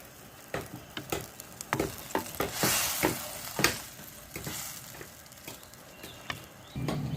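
Mustard and poppy seed paste is stirred into a simmering pabda fish curry in a pan, making a soft steady bubbling sizzle broken by repeated sharp scrapes and taps of the spoon, close up and with no talk.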